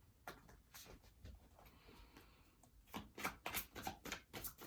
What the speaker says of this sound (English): I hope you guys can actually see me shuffling these cards.